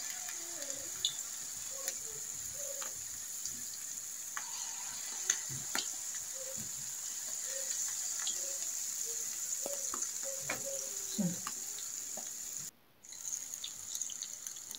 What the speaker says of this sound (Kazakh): Екі жағын қызартып қуырып аламыз